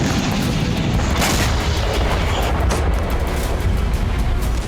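Rocket strikes exploding in northern Israel, heard as a dense, continuous roar of deep booms and rumbling blasts with no gaps.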